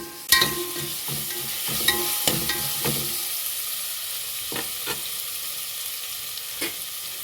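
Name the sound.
onions frying in pan for ghee rice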